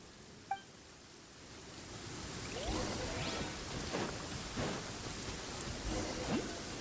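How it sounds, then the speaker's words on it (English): Steady rain with rumbling thunder during a lightning storm in the Genshin Impact video game, a broad constant downpour with several rolling thunder swells and one brief sharp crack near the start. "Uh-oh! Lightning storm!"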